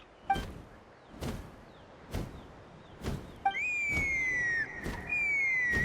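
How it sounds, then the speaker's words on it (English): A rising electronic whistle tone rings out and holds over steady rhythmic thumps, alongside faint chirping game sounds, in the video game Genshin Impact. "That sounded like a whistle."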